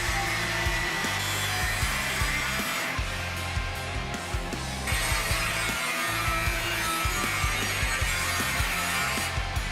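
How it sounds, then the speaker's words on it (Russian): An angle grinder fitted with a cutting disc slices through a marked-out steel sheet, giving a steady, loud, close whine with rhythmic bursts and brief dips as the disc bites and eases across the metal. "Вырезал с помощью болгарки и отрезного круга."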